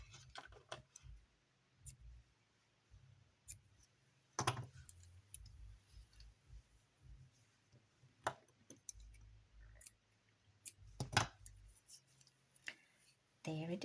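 Scissors snip the yarn ends of a crochet button bracelet in a few sharp, sparse clicks spread across a quiet room, with soft handling noises in between.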